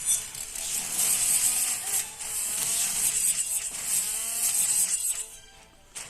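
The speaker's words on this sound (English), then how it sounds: "Get some chainsaw action in there." Chainsaw attack in the video game Shining Beyond: a steady, loud buzzing mechanical whine with ratcheting texture running almost continuously, fading slightly near the end.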